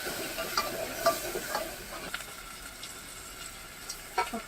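Mutton masala sizzles and spits in hot oil in a pot over a wood-fired clay stove, a close, crackling fry with occasional stirring scrapes.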